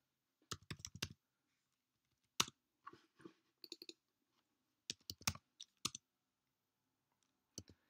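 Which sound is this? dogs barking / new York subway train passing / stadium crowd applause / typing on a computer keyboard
typing on a computer keyboard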